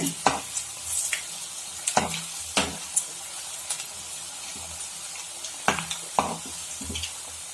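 Cabbage bonda fritters frying in oil over a medium flame, a steady soft sizzle broken by sharp clinks and scrapes of a utensil stirring the pan, with no talking.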